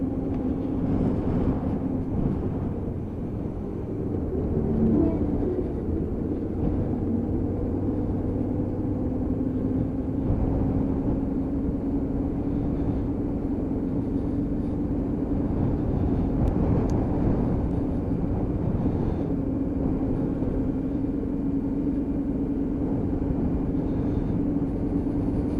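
A Hyosung GT125R motorcycle on fresh tyres pulls steadily through its gears, its engine droning in a continuous, fairly loud rumble with wind noise throughout, with no clear gap or pause in the sound.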